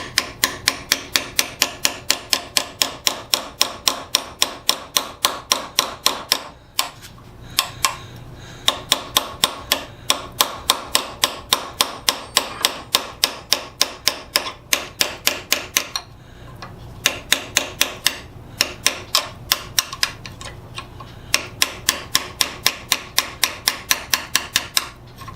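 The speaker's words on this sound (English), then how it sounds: "This cape chisel should catch a hold of it and let me peel it loose." Hammer blows driving a cape chisel to loosen the handle of an antique sledge hammer, a long run of rapid, evenly spaced metallic strikes that pause briefly a few times before resuming, loud and close.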